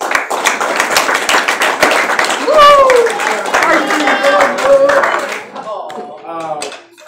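Clapping from a gathered crowd at a middle school football banquet, mixed with cheers and whoops, fading out near the end.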